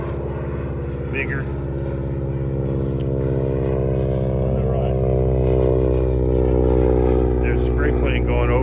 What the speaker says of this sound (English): There's a spray plane going over, delivering rescue chemistry to farmers who did not use humic substances.